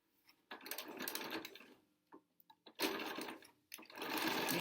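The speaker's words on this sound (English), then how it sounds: "So let's go ahead and stitch all the way around." A sewing machine runs in bursts, stitching around the edge of a homemade N95 replacement mask, with fast rattling runs separated by short pauses and light clicks, close and clear with no talk.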